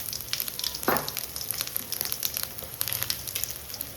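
Sugar and cumin sizzle and crackle in hot oil in a kadai for a fish masala besara, a steady close frying hiss with small pops and one brief stir or scrape.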